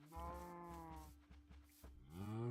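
A Minecraft cow gives a drawn-out moo, low and fairly quiet, followed by a second rising moo near the end, with no talking over it.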